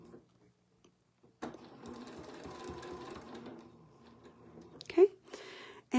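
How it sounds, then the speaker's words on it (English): Sewing machine stitching straight across a quilt, a few seconds of fairly soft, close whirring motor with a couple of sharper handling noises afterward. "And now we'll just sew straight across until we touch that circle again."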